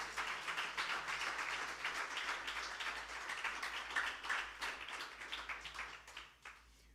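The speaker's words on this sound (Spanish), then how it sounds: "Dáselo fuerte y dáselo otra vez." A church congregation applauds loudly and steadily for about six seconds, with dense, continuous clapping that thins out near the end.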